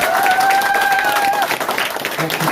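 Loud, warm applause fills the room for a candidate at the opening ceremony of a Democratic Party provincial council election office in Gumi, dense crowd clapping with whistles rising over it and voices mixed in.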